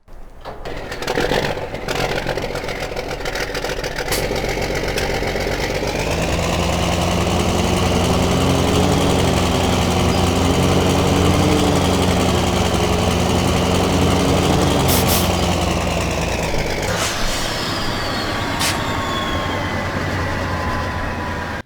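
A modified tractor engine sound from the video game Farming Simulator 17 starts up, rises into a loud, steady droning rumble with a wavering tone, then revs down near the end.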